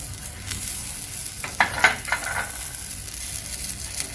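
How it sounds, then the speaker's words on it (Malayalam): Butter sizzles on a hot cast dosa griddle, a steady soft hiss with a few sharper crackling pops as it spreads, close and unaccompanied by talk. "ശരിക്ക് ചൂടായ ദോശക്കല്ലിലേക്ക് നമ്മൾ കുറച്ച് ബട്ടർ പുരട്ടി കൊടുക്കണം."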